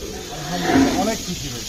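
A Qurbani cow lets out a single fairly loud moo close by, rising and falling over about a second amid faint background voices.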